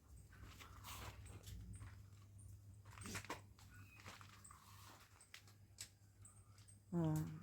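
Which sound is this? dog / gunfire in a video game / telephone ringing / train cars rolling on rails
dog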